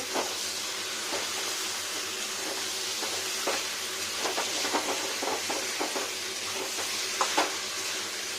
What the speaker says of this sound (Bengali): এখন কোষাতে থাকবো লবণ দিইনি কিছু নয় শুধু কোষাতে থাকবো